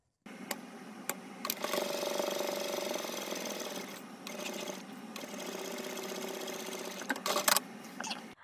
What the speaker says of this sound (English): we're going to head back to the sewing machine and we are going to top stitch along this entire edge